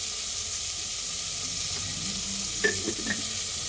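Onions and tomatoes sautéing in a pan give a low, even sizzle, with a couple of faint clinks of a utensil near the end.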